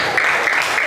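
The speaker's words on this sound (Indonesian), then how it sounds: "Tepuk tangan untuk Jihan." A short burst of dense classroom applause, many hands clapping together in a steady wash of sound.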